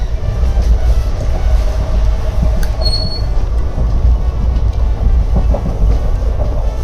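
Inside a passenger train carriage, a loud, steady rumble and rattle of the moving train fill the space, with faint squeals and clanks, no one talking.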